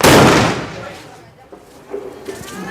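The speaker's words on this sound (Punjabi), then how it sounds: "ਇਹ ਕੰਨ ਖੋਲਦੇ ਨੇ ਪਟਾਕੇ ਜੀ ਇਹ ਬੰਬ ਜਿਹੜੇ ਨਾ ਇਹ ਬਹੁਤ ਹੀ ਖਤਰਨਾਕ ਨੇ" Diwali firecracker bombs in Punjab go off with a loud, close blast that booms and fades, followed by two smaller distant bangs.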